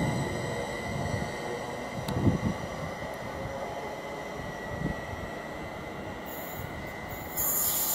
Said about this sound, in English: the 12:51 service from Norwich to London Liverpool Street is just now departing